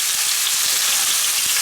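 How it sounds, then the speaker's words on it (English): Vegetables for a salmon and vegetable stir fry sauté in a hot pan with a loud, constant sizzle close by, broken by a few soft knocks from stirring and no talking. "I'm just going to give this a quick saute"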